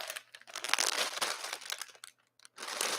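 A plastic bag wrapped around a Heavy plush toy crinkles loudly and close as it is handled, in bursts of crackling rustle with a brief pause near the end.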